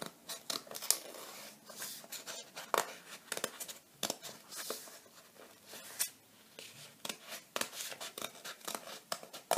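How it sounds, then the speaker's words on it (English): Scissors snip through paper in quick, irregular cuts. The sound is close and faint, with rustling between the snips. "So I'm going to grab the scissors."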